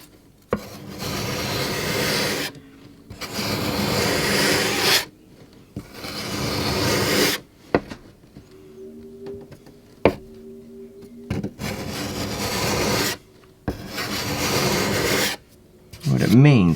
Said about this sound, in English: so I go at an angle and I scrape it